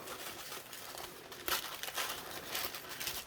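A sticker handled while an order is packed, giving a soft, continuous crinkling and peeling rustle near the microphone with a slightly louder crackle partway through, no talking.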